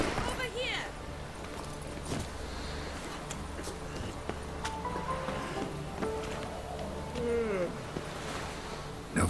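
A horse in The Witcher 3 walks with steady clip-clop hooves under game music, and voices talk over it throughout.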